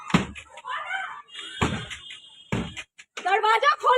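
A door is kicked and banged on in an angry dispute in Bhagalpur, with three or four heavy, close thuds spread over a few seconds as a woman's loud, agitated voice shouts between the blows.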